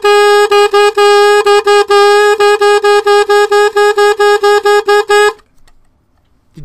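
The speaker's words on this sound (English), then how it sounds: "If I play a song like Mary Had a Little Lamb on this, it would sound like this." Mary Had a Little Lamb played on a bare alto saxophone mouthpiece and reed, in a run of short, loud, buzzy tooted notes at nearly one fixed pitch, each note separately tongued, then stopping into near silence.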